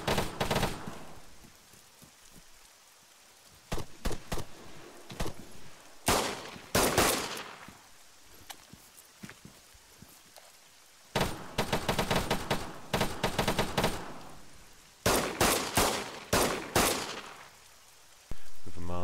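Video game gunfire aimed at enemies during a bog-clearing mission: bursts of rapid automatic fire and scattered shots in several clusters, loud and sharp, separated by quieter stretches of low ambient noise.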